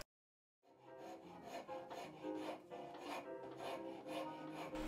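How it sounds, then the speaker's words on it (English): A rasp scrapes over the wooden bow of a Laughing Loon baidarka kayak, giving repeated rhythmic rasping strokes that are close and steady after a moment of silence. "Do the final shaping with a rasp."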